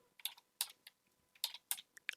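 Keys on a computer keyboard click in sparse, uneven bursts as someone types one-handed, quiet and close with short pauses between strokes.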